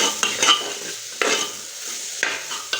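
A spoon stirs spice paste and ground spices frying in a pan for a Mughlai dish, soft sizzling under a few distinct scraping strokes against the pan, close and clear with no voices.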